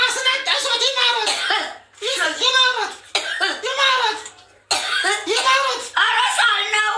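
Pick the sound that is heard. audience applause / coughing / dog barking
coughing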